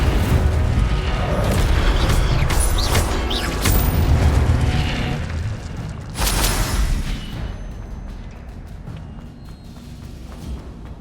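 An Incendio fire spell is cast in Hogwarts Legacy, heard as a loud, rumbling burst of flame with deep booming surges and crackling that gradually fades, with no talk.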